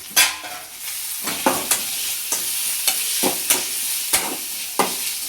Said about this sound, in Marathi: परत हे आपल्याला असं फ्राय करून घ्यायचं.